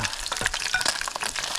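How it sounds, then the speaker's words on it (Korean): Battered smelt sizzle and crackle as they deep-fry in oil out on a frozen lake in minus 15 degree cold, with close, busy popping bursts and no voices. "두 번 튀겨야 맛있으니까 한 번 여기 빼놓고 한 번 더 튀기자고 이거."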